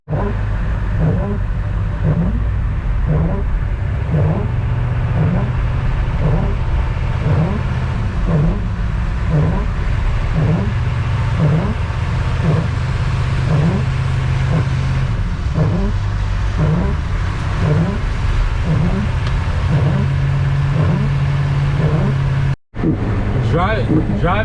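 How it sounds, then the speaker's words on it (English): A Humvee drives through snow with a steady, loud engine rumble and repeated rhythmic surges across the clip, then a brief dropout near the end; speech is also tagged, though no words are clear. "Driving this thing through the snow is not the easiest task in the world."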